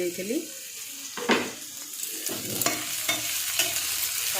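Tomatoes fry in a pan while a spoon stirs them, sharp scraping strokes breaking through a soft, steady sizzle, close and moderately loud.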